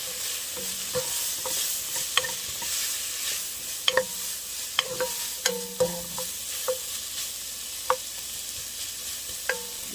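Bacon sautéing in a pan, a steady sizzle under repeated sharp scrapes and clicks of a utensil stirring against the pan, moderately close with no talk.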